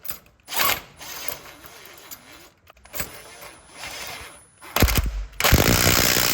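A ratchet tightens a new bolt on a racing lawnmower, giving close, rapid clicking bursts with pauses between them and a louder, harsher mechanical rattle near the end.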